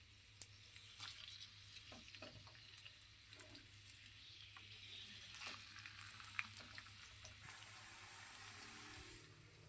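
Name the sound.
onion and green chili frying in oil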